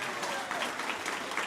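Audience at an Orange County Commission debate breaks into brief, dense clapping, a steady patter of hands filling the room.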